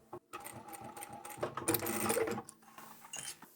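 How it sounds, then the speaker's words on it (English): A sewing machine stitches a small tab on a zippered fabric phone pouch in short bursts, starting, pausing and resuming nearby, with clicks of handling between runs. "for the little tab, we'll sew down one side and across"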